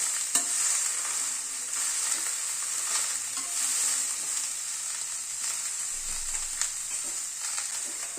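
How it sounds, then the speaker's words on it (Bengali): Spring onions are stirred together with mixed vegetables in a frying pan over the gas flame for chorchori. A steady, bright sizzle runs throughout, with soft scraping strokes of the spatula scattered across it. "সব সবজির সাথে পেঁয়াজ কলিটাকে একটুখানি মিশিয়ে নিচ্ছি।"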